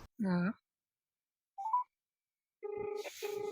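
A mobile phone places a call: a short electronic tone, then a steady repeating ringback-style tone pattern near the end, with a voice talking briefly at the start.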